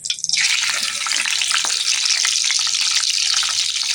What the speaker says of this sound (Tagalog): si Dudut pa magpiprito naman ng tigi